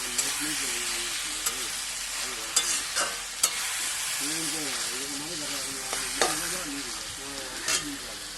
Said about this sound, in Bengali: এইবার ভালো করে মশলাটাকে ভালো করে কষাবো আলুটাকে